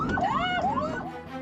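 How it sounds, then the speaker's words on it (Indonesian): An ambulance from Puskesmas Cisoka sounds its siren, a loud wailing sweep rising and falling twice in quick succession, close and continuous. "pengemudi ambulan dari Puskesmas Cisoka telah membunyikan sirene dan klakson"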